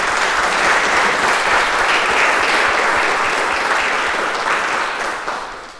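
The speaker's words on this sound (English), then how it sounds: "please give those folks a round of applause" Sustained audience applause fills a conservatory hall at an end-of-year address, a dense, steady wash of many hands clapping that holds loud throughout and begins to fade near the end.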